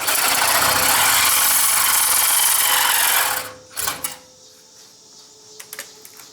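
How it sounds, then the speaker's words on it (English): A power saw grinds harshly through a metal weld on a 1967 Ford F100 for about three seconds, then stops, followed by a few scattered clanks and taps. "I can lean my blade under this and try to cut the rest of that weld"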